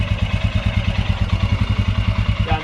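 A Royal Enfield Scram 411 single-cylinder motorcycle ridden slowly thumps in a steady, close, loud low pulse, each firing stroke distinct with light mechanical clatter on top.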